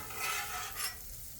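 Smash burger patties for Salisbury steak burgers sizzle steadily on a grill that is cooler than usual, a close, dense hiss that swells briefly twice and carries on without any voices.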